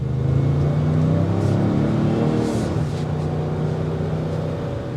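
A 2024 Ford Expedition Timberline SUV with a 10-speed automatic accelerates in sport mode, giving a steady, loud engine rumble and drone heard from the cabin.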